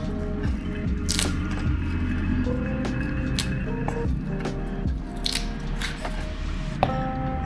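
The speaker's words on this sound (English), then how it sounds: "so I'm breaking up the lettuce a little smaller" Lettuce is torn by hand for a salad, making soft crunchy rips and squishy crackles up close over a steady background hum, with no talking.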